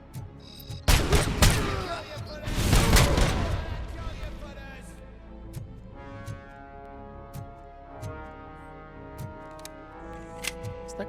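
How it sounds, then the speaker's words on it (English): Grenade launcher fired in the video game RoboCop: Rogue City, two heavy booming blasts with rumbling explosions early on, followed by quieter clicking and ticking game sounds as a voice speaks. "grenade launcher"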